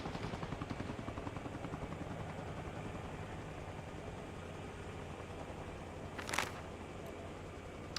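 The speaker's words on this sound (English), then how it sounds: "Wait, no, that's the helicopter." Steady helicopter rotor and engine drone in a vehicle-hunting video game, continuous and fairly close throughout, with a brief sharp burst near the end.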